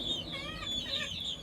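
Desi chickens on a poultry farm, where a hen has hatched chicks, give a short burst of close, continuous clucking and chirping calls over a low background murmur.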